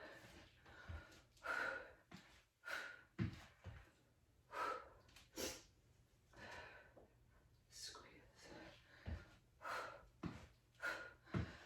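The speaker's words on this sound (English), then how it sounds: "Hope you can hear me breathing." Repeated heavy, breathy exhalations and gasps during a dumbbell strength workout, in an uneven rhythm, close to the microphone, with a brief spoken word among them.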